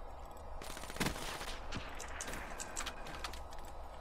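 Rapid gunfire in Call of Duty: Black Ops during a team deathmatch firefight, with dense automatic bursts and a few sharper shots over continuous battle noise.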